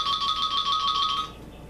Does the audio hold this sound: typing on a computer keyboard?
no